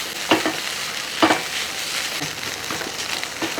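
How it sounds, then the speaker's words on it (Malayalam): A spoon scrapes and stirs egg thoran with grated coconut in a pan, a soft frying hiss underneath with a few sharp scraping strokes spaced out, close and moderately loud. "ഇനി ഇതെല്ലാം കൂടെ നന്നായിട്ട് ഇളക്കി കൊടുക്കുക"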